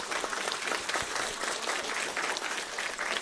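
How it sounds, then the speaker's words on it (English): Audience applause at an Arya Samaj foundation day program, steady dense clapping from a crowd that holds evenly for about three seconds with no talk over it. "Give her a round of applause."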